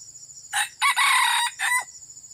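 Young chickens crow close and loud in short bursts, with one longer strained call in the middle and a final shorter crow, against a faint low background.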